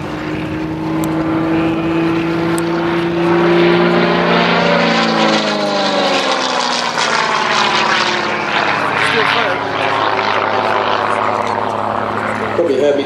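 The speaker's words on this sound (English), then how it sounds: "You can just see how much performance this aircraft has got." A Gamebird GB1 aerobatic propeller aircraft climbs at an air display at Sywell, its loud steady engine drone shifting in pitch as it pulls up, with a commentator talking over it.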